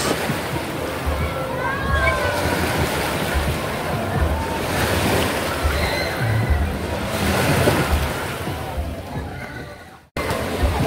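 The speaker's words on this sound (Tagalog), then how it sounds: "Ayan ang waves." Waves surge and slosh in a wave pool at a resort in Davao del Norte, a loud, continuous rushing wash with wind buffeting the microphone and voices talking over it.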